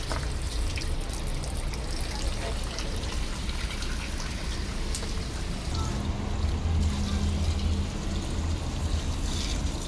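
Water running and splashing steadily while a deep freezer is washed out, a continuous broadband wash of flowing water lasting throughout with no pauses.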